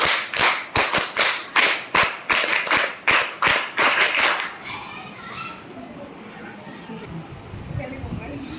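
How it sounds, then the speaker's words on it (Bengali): Group of school scouts clapping loudly in a rhythmic burst of about a dozen sharp, evenly spaced claps that stop abruptly, followed by quiet crowd murmur and children's voices. "স্কাউট তালি বাজাও জোরে"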